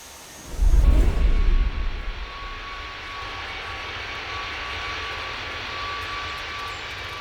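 A KLM 790 Heavy airliner in the Tower! Simulator 3 game roars loudly as it starts its takeoff roll, then settles into a steady, distant jet rumble with a faint high whine.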